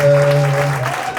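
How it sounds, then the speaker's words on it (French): Guests at a 60th birthday celebration break into dense, loud applause, with a sustained tone from music or a voice running beneath the clapping. "Applaudissons le Seigneur"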